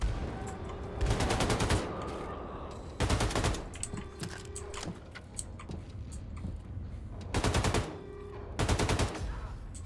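Bursts of automatic gunfire from Wolfenstein II: The New Colossus come in four or five loud, sharp volleys spaced a second or two apart, separated by quieter game ambience and ticking sounds.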